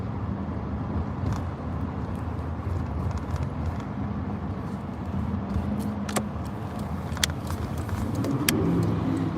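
A big truck rumbles past a car on a dirt road, a low steady engine drone heard from inside the car, swelling slightly toward the end, with a few faint clicks.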